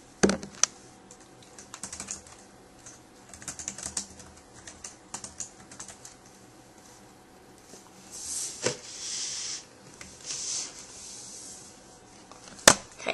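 Computer keyboard typing in bursts of quick clicks with short pauses between, close and fairly quiet, ending in a couple of sharper single key taps.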